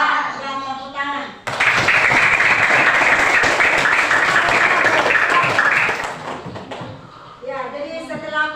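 Students in an Islamic cultural history class applaud after a group presentation, a loud burst of clapping lasting several seconds and then fading, with a teacher's voice speaking before and after.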